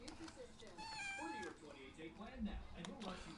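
A house cat meows clearly and close by, a drawn-out, wavering cry followed by softer mews, with a person talking over it.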